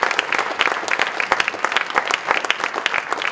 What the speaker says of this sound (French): Mais on peut l'applaudir.